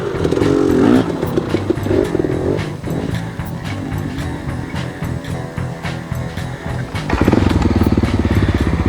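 A Honda XR600R motorcycle engine runs steadily and close by, its loud, continuous thump rising in a rev toward the end.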